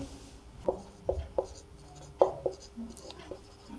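Short chalk or marker strokes on a board in a maths class working logarithm problems, a handful of quick taps and scrapes spaced apart, faint and close over a quiet room.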